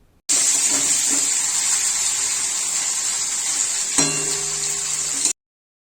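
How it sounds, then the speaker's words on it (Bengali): Cut paneer pieces frying in hot oil in a pan, a loud continuous hiss and sizzle heard up close and uninterrupted, with a brief clatter near the end. "ওই একই তেলের মধ্যে পনিরগুলোকে কেটে নিয়ে তেলের মধ্যে দিয়ে ভেজে নিতে হবে"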